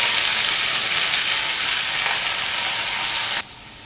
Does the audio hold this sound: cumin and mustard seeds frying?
yes